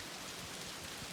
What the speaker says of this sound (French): Il pleut comme ça jusqu'à demain.